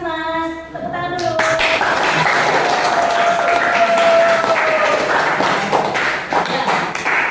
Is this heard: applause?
yes